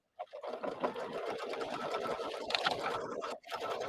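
A sewing machine runs steadily through decorative stitching on a fabric jug appliqué, a continuous close whirring hum with one brief pause near the end.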